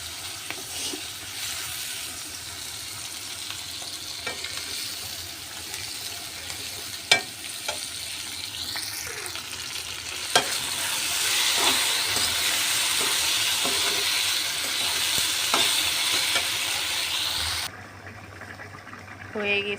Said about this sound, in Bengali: এখানে ঢেঁড়স ভাজি করব।